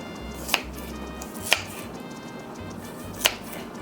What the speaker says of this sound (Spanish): Ahora los voy a estar cortando como en diagonal.